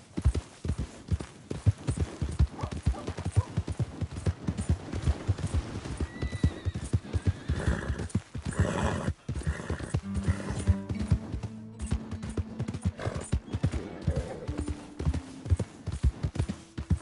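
Horse hooves clip-clop in a steady, brisk rhythm throughout Red Dead Redemption, with a whinny rising near the middle and a low hum underneath.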